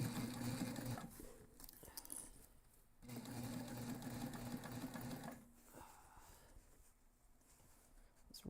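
A sewing machine bastes a backpack zipper in bursts of rapid mechanical stitching, running for about a second, pausing, then sewing a longer stretch before quieter handling noises follow.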